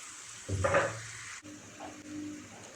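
Mushrooms (a large pack of champignons) and three carrots are stirred in a hot pan, giving a brief louder burst of sizzling and scraping that settles into a quieter, steady fry.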